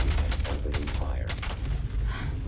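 Gunfire in the video game Starfield, a rapid burst of shots rattling on for a couple of seconds over a rumbling, busy game background.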